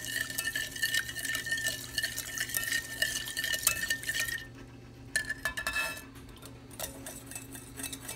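Egg yolk custard for vanilla ice cream stirred in a pot over very low heat, a steady close scraping and swishing with faint liquid sloshing and light utensil ticks, pausing briefly midway before resuming.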